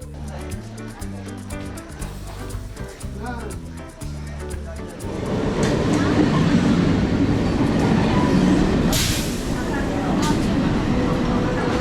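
A train at a station, with a rumbling, clattering roar that swells and stays loud through the second half, while a voice talks over the first part.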